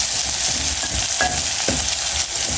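Kenyan pilau with garlic sizzling and frying steadily in a pan, a constant close crackle with a couple of faint utensil clinks and no voices.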